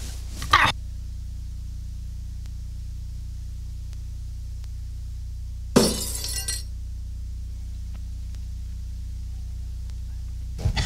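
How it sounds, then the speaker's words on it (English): Glass bottles shattering when shot in the Mad Dog McCree laser game, two sharp bursts of breaking glass several seconds apart with a third brief hit at the end, loud and close over a low steady hum. "Take a crack at this bottle"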